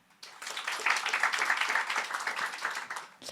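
A French audience breaks into applause, dense clapping rising abruptly, holding steady for about three seconds, then cutting off.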